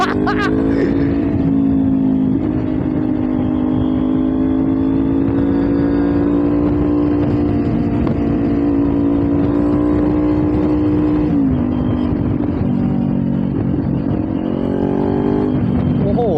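A farm tractor driving along a village lane at night with no tail light, its engine drone loud and steady throughout with a slight pitch shift midway, and faint voices underneath.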